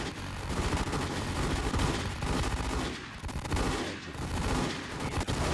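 Gunfire in a shooting video game, with rapid bursts of automatic shots rattling close and loud almost nonstop, broken by brief lulls.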